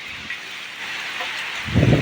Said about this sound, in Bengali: দেখতেই পাচ্ছ কীরকম ঝড় বৃষ্টি হচ্ছে বন্ধুরা, ঘূর্ণিঝড় রিমালের প্রভাবে।